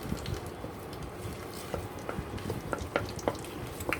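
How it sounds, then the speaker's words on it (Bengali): Whole garam masala, cardamom, cloves and mace pieces, fry in mustard oil with a soft, steady sizzle and scattered faint pops and stirring clicks, close-up with no voices. "গরম মশলাগুলো তেলের মধ্যে ভেজে নিচ্ছি"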